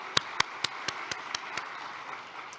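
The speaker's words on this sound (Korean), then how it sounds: "우리 큰 축하의 박수를 부탁드립니다" Congregation clapping at a church year-end thanksgiving service, a sparse round of separate hand claps, about ten distinct claps at a steady pace over a soft room wash, with no talking.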